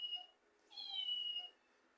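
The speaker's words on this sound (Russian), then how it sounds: "Если вы не будете ее гладить, то она будет мяукать." A plush toy cat gives electronic meows, two short tonal calls with a pause between, clear and close with no other sound around them.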